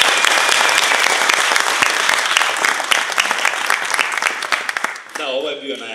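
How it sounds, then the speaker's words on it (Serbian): An audience applauds at a book launch in a cultural centre in Pećinci, with dense, loud, continuous clapping for about five seconds before it cuts off and a voice begins speaking. "Ja molim da sad samo jedan aplauz."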